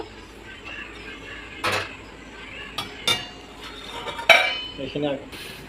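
A spoon clinks and scrapes against a pan in slow, intermittent strokes, close by, as milk for sago kheer is stirred.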